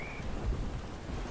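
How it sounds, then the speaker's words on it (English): Freezing rain falls as a spell effect in the strategy game Rise of the Witch-king, heard as a brief, steady rushing hiss of rain with a low rumble under it. "there is a freezing rain on the field"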